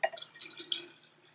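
Filtered water is poured into a strong mint tea, making a short, close, bright trickle with a few quick dripping splashes that fade within a second or so.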